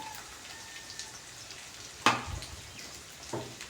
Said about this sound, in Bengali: পেঁয়াজটা এখন ভাজার পালা